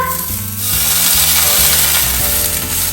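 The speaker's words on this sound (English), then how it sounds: "now it's roasted and we are gonna add in the beans" Beans going into a hot pan of roasted ingredients set off a loud, steady sizzle that swells after the first half-second and then holds, broad and close, with no talking over it.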